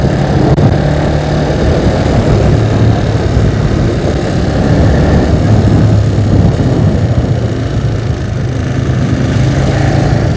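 A motorcycle engine fitted with a 62mm PWK carburetor runs steadily at quarter throttle on a school road, giving a loud, continuous droning hum with no talk over it.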